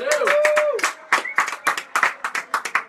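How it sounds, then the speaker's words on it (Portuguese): Studio guests on a Brazilian radio show give a short round of clapping, a few nearby pairs of hands striking in quick uneven bursts, with a voice talking over the first part. "Salve de palmas, rapaziada."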